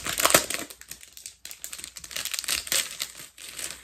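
A package holding a necklace is torn open with loud, close crinkling and crumpling of plastic wrapping that comes in bursts with brief pauses.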